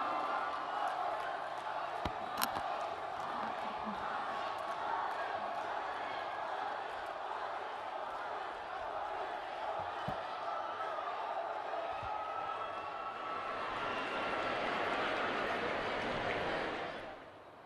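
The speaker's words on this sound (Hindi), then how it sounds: "एक बार जोरदार तालियां माननीय प्रधानमंत्री जी के स्वागत में" Sustained applause from a large crowd at a public rally in Andhra Pradesh welcoming the Prime Minister fills the space, a steady dense wash of clapping that swells slightly near the end before cutting off abruptly.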